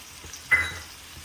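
Onion and garlic frying in a pan for a fish curry, a quiet hiss with one brief louder sizzle burst as ingredients hit the oil, then fading back to a soft crackle.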